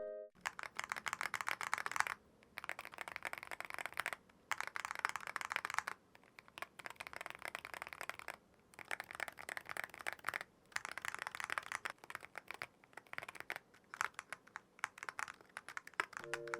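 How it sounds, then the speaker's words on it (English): Rapid typing on a keyboard fitted with TTC King of Magnetic switches, bursts of clacky keystrokes close up separated by short pauses, with no voices. "Another factor that will change the keyboard sound and the switches sound is the actual keyboard. So let's go ahead and test some other keyboards with these switches."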